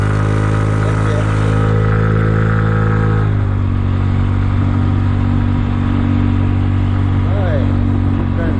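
Kymco People 250 scooter engine with exhaust leaks freshly plugged with high-heat epoxy, running close with a steady droning idle, its pitch dropping partway through and then holding low and even.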